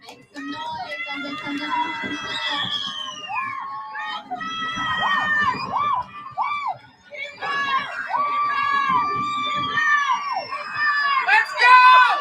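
Crowd at a live race cheers and yells continuously, loud and close, with shrill voices and whoops overlapping in a dense wall of shouting that swells toward the end.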